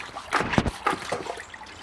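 A wet polishing pad used on car paint is scrubbed by hand with water, giving several short, close splashy swishes and squelches in an uneven rhythm, with no talking.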